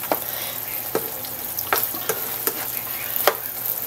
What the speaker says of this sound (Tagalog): Pabayaan pa natin kumulo at maiga ng konti.